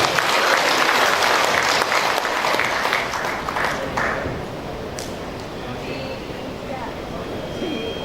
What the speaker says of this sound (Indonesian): Boleh tepuk tangan Bapak Ibu.